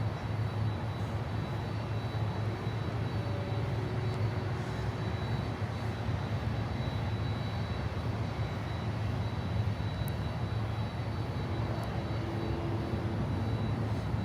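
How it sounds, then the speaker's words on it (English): A LATAM Cargo Boeing 767 landing at Miami airport, its engines making a continuous low roar that holds steady at a distance, with no talk. "next one to land is 767 Latam Cargo from Medellin in Colombia, all whites"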